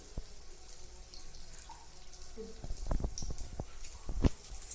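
Water poured and splashed by hand into a bowl of malpua batter, soft trickles and a few brief splashes over a quiet room hum.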